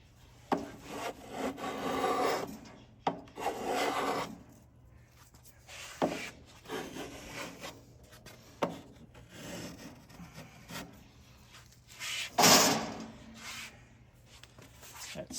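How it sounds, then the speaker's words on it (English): A block plane shaving down wooden guitar sides, with repeated rasping strokes of varying length and loudness and brief pauses between passes, close up with no talking. "So what I'm going to do is take my block plane and knock these"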